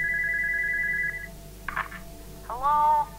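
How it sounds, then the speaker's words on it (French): A telephone rings inside the horror game Spooky Jump Scare Mansion: a short electronic ring, then a few brief chirps and a rising warbling tone, fairly loud and with no talk over it. "Téléphone."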